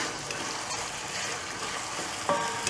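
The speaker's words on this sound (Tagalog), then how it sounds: "pag naprito na natin to, iprito naman natin itong toyo" Dried fish (tuyo) fries in a pan with a dense, steady sizzle and crackle, close and fairly loud, with a short clatter near the end.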